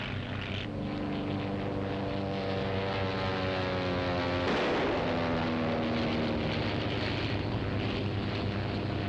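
A 1930s propeller airplane flies past overhead with a loud continuous engine drone whose pitch drops as it passes, close and sustained, under an action film score.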